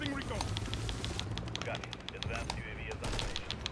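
Rapid automatic gunfire in Call of Duty: Modern Warfare 3, dense bursts of close, sharp shots nearly throughout, with a voice talking underneath.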